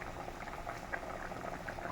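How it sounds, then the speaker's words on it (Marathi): Mutton curry broth boiling in a pot, a continuous bubbling simmer heard close and steady with no voices. "रस्सा उकळत आहे."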